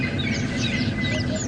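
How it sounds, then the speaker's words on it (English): A chinspot batis calls on a morning safari drive at Djuma Game Reserve, with thin, repeated whistled notes rising among other chirping birds over a steady outdoor hum. "That is a chin spot batis."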